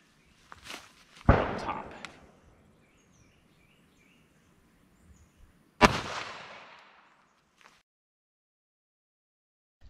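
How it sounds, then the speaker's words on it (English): A Ruger LCP Max pistol fires .380 Winchester hollow point rounds outdoors, two sharp loud shots several seconds apart, each trailing off in a short echo, with brief talk in between. "we're going to see here what a 380 hollow point will do out of the LCP Max here"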